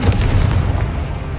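A Confringo fire spell from Hogwarts Legacy detonates with a loud, dense, booming burst that rolls on as a sustained roar through the whole moment.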